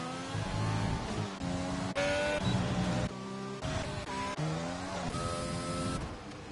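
Formula 2 race car in a sim racing game at Singapore spinning out, engine tones sweeping up and down with revving and tire squeal throughout, loud and continuous without talk.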